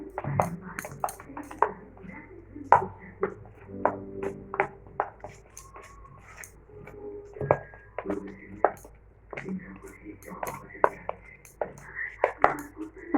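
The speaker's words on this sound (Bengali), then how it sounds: "তার মধ্যে দিয়ে দেবো আবার অল্প একটু জল। এটাকেও আমরা ভালো করে মিশিয়ে নেব।" A spoon stirs batter mixed with Eno and a little water in a bowl, giving a string of light taps, clinks and scrapes in irregular rhythm while a soft voice murmurs.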